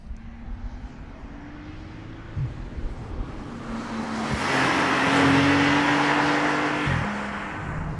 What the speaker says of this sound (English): Let us put the new 911 Turbo through its paces out here on the Hockenheimring racetrack